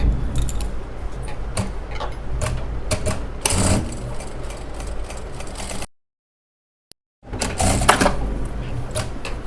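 Sewing machine stitching a child's lehenga during alteration, a continuous mechanical whir with rhythmic clatter that runs, cuts out to brief silence, then starts again, close and moderately loud.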